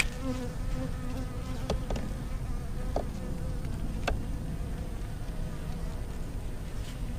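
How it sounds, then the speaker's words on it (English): Honey bees at a hive buzz in a low, steady drone close by, with a few sharp clicks and knocks from beekeeping equipment as a hive shim is taken apart. "That's such a small cluster of bees."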